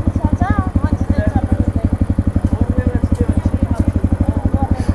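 A dirt bike engine idles close by with a loud, rapid, steady thumping pulse that holds for the whole stretch, while voices talk over it.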